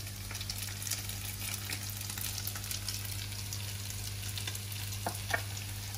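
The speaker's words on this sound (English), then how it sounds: "Just gonna mix that sauce all in." Sauce is mixed into vegan yasai yaki soba in a wok with a steady low sizzle, soft scraping and a few faint clinks as it gets stirred, over a constant background hum.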